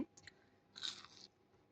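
Crunchy chewing of a warm, flaky salmon croissant, a quiet bite at the start and a louder crisp burst of chewing midway, close and alone with no talk.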